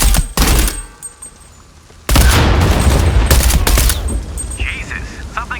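A sudden loud explosion, followed by a sustained burst of automatic gunfire, in the video game Shadow of the Tomb Raider, preceded by a few sharp shots and a quieter lull, with voices talking amid the chaos.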